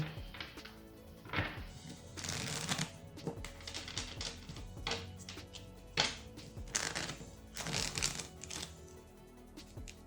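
Tarot cards shuffled in repeated bursts of riffling and papery slapping, close and fairly loud, with short pauses between handfuls and no talk over it.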